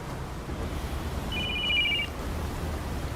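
A telephone rings in The Sopranos as Vito's phone goes off, a single short electronic trill of under a second rising over a steady background of rushing noise.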